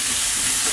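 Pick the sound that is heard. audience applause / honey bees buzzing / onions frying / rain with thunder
onions frying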